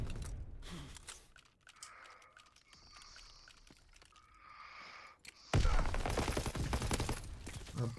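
Gunfire in Call of Duty WW2 multiplayer, with scattered sharp shots and mechanical clicks early on, then a loud sustained burst of rapid fire in the final seconds, close and dominant.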